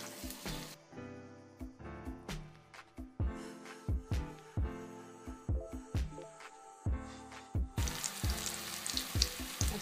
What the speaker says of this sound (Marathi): तेल तापल्यावर या प्रकारे भजी तळून घ्यायची आपल्याला